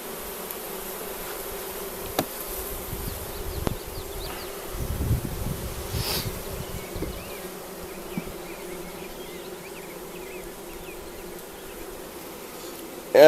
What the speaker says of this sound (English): Yeah, I got a bee in my pocket.